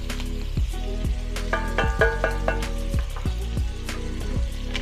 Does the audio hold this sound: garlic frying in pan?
yes